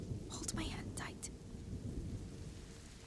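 Steady rain hisses with a low rumble beneath in a video game, while a voice whispers faintly over it near the start.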